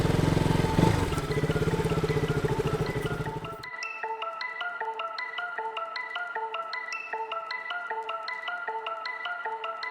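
A freshly serviced KTM RC 200 motorcycle engine drones steadily for a few seconds while riding, then gives way to a repetitive electronic melody playing until the end.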